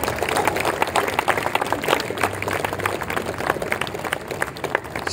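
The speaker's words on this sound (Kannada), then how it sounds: "ನಮ್ಮ ಕೈ ಚಪ್ಪಾಳೆ" Audience applause at a local honouring ceremony, a crowd clapping steadily and fairly close for several seconds, irregular and busy, with no voices over it.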